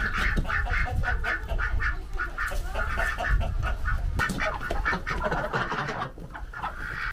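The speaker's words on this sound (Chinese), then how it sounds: "鸭子都在这里。" A flock of ducks, spotted ducks and mallard-type ducks, quacks continuously and loudly at close range, with many overlapping rhythmic calls and farmyard bustle.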